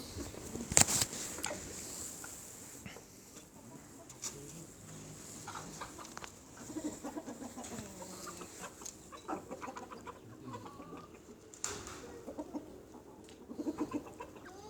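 Light Brahma chickens cluck softly on a farm, a scattered mix of low clucks and brief calls with one sharper squawk early on, moderately close over a quiet background.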